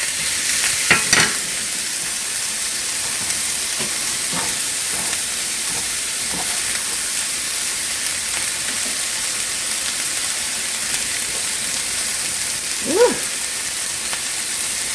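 Sliced Vidalia onions sizzle and fry in a pan, a steady loud hiss with a few scraping stirs near the start and another stir near the end, no voices.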